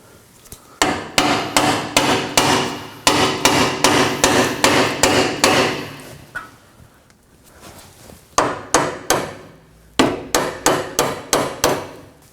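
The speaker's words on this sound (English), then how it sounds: "we're going to use a hammer and just tap it so it lines up with the holes" A hammer taps a front lower control arm into place on a 2014-2020 Acura MDX, repeatedly in quick bursts of sharp knocks, pausing between groups, loud and close with no talking.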